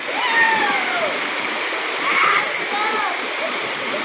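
A waterfall at a dam in Harkul Khurd, in the Konkan countryside, pours down hard in a steady, close, full roar with splashing throughout and faint higher tones above it.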